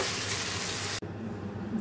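Water pours steadily into a cooking pot in a short, continuous gushing stream, then breaks off and leaves a quieter splashing wash.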